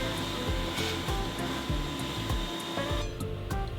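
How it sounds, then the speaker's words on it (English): A shop vac runs steadily while cleaning around a DIY wood stove installation in a travel trailer, a constant airy whooshing drone with small rhythmic clicks and thuds underneath, fairly close and alone. "Gave it a quick cleaning with my shop vac"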